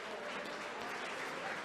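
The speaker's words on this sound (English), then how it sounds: "Big round of applause for these two warriors." Crowd applause for two MMA fighters at a UWC 27 event, a dense, steady wash of clapping that holds throughout the short moment.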